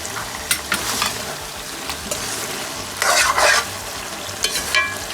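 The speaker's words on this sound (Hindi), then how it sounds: "अब मैं इसको मीडियम लो फ्लेम पर भूनने लगती हूँ।" Carrot, potato and fenugreek sabzi frying on a medium-low flame, a steady soft sizzle broken by scraping stirs of a spoon in the pan, with louder bursts of stirring midway and near the end, no voices.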